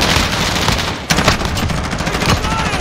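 Call of Duty Modern Warfare team deathmatch with rapid automatic gunfire in dense, overlapping bursts and a sharp grenade blast about a second in, loud and close throughout.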